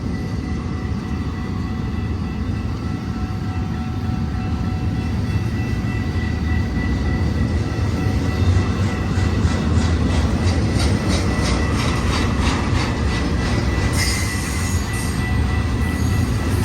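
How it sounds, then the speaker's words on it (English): A freight train, probably an intermodal or autorack unit, rolls eastbound on main track number 1, its steady loud rumble and rail noise filling the whole stretch, with rhythmic wheel clicks building midway and a brighter screech near the end. "This train right here is on main track number 1 eastbound."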